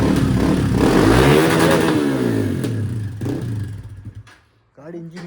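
A motorcycle engine roars loudly and then winds down, with clattering mechanical noise as it fades, after a kick-start attempt, and voices talk over the engine.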